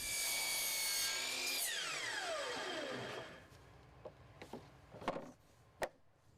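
A power saw cutting a PVC/WPC decking plank set against a stop block, whining loudly for about three seconds and spinning down, followed by a few light knocks and clacks of the board being handled.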